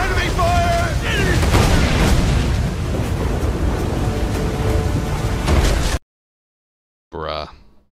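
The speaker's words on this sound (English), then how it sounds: "Enemy fire! Enemy!" Loud, dense gunfire and explosions from an Assassin's Creed game roar continuously for several seconds, then cut out abruptly, followed by a brief shouted voice.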